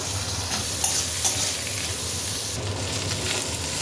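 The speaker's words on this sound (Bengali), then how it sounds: "পেঁয়াজটাকে কিন্তু খুব লাল করে ভেজে নেব" Chopped onion fries in hot oil with whole cumin, dried red chilli and bay leaf, giving a continuous close sizzle and crackle with a few brief sharper hisses.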